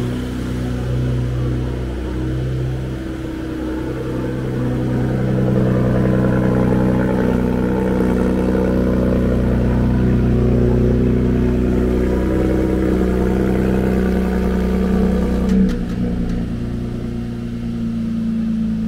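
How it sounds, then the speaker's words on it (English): A 2018 Porsche Panamera 4 engine idles high and steady after a cold start, its low rumble filling the air evenly for a long stretch with a brief clatter late on. "cold start on a Porsche Panamera is something else"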